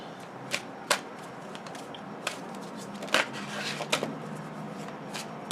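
Tarot cards being shuffled, with soft riffling and sharp snaps at an uneven, unhurried pace, close and quiet.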